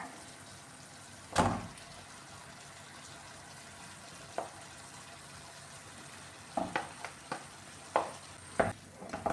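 Mashed potato is stirred into softened carrot and onion in a pan for masala dosa filling, with occasional scraping strokes and clacks of the spoon over a faint background hiss.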